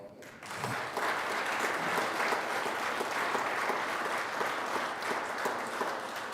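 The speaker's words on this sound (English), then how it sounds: "Can we please give them a round of applause?" Sustained applause fills the Colorado Senate chamber during a 2024 legislative day, a dense, even clapping from many hands that starts abruptly and carries on steadily for several seconds.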